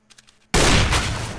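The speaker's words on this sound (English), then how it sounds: "He's blind firing essentially right now is what he's doing." Sustained gunfire in a Counter-Strike match, a burst of loud shots starting abruptly after a moment of faint sound and carrying on densely to the end.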